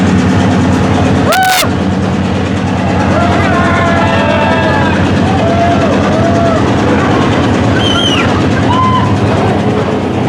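Train running on a Sri Lankan railway, loud and close, with a continuous rumbling roll and rhythmic wheel clatter, a brief sharp horn-like blast early on and faint squeals and voices over the steady din.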